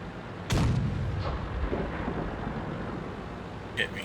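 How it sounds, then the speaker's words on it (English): A KV-2 heavy tank's large cannon fires once in a tank battle video game, a sharp loud boom with a long rumbling tail that fades into low background noise, followed by a faint distant crack near the end. "So the KV-2 fires and misses"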